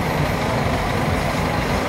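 Street traffic beside a bus stop in Los Cristianos, Tenerife, with a fairground set up for carnival nearby: a steady, fairly loud wash of engine rumble and road noise, as from a passing or idling truck or bus, with no speech.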